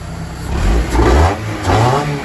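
A Toyota MR2 SW20 with a K24 engine swap revving through a freshly finished JFab exhaust, three loud, close blips rising and falling with a low, throaty rumble between them.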